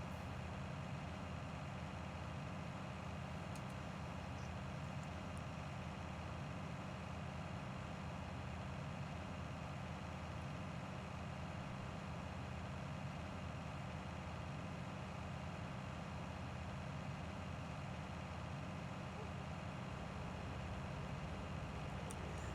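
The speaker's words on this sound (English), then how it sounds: "I have noticed in this version that the tractor sounds and all of that are really, really loud" Tractor engine idling in Farming Simulator 19, a steady low droning hum that holds constant and faint for over twenty seconds with nothing else over it.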